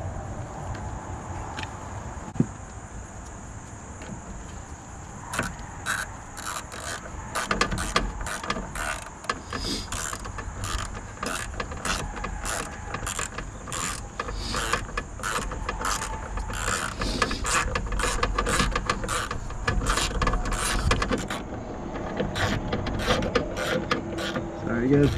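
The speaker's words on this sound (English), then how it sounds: "Put our bolt back in." A ratchet wrench clicks steadily in long runs of quick pawl ticks while tightening a bolt on a van's coolant reservoir, close and fairly loud over a low background hum.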